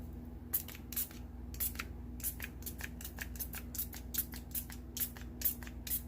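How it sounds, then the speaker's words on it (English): A small sprayer spritzes alcohol ink onto a stenciled art background in a series of quick, quiet bursts, irregularly spaced, over a low steady hum. "Let's try a little sprayer."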